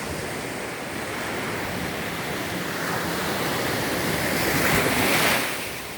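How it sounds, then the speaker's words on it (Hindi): Ocean waves rolling and breaking on a beach, a continuous broad wash of surf that swells gradually toward the end before easing off, with some wind noise and no talk. "कितना प्यारी सी लहरें उठ रही है"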